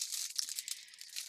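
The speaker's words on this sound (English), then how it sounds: "Sorry for the rustling." Close, crinkly rustling of a thin plastic bag holding a diamond painting kit, with steady crackles and small crunches running through the whole moment, no voices.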